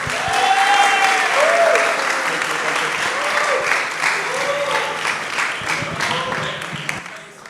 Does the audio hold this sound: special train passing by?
no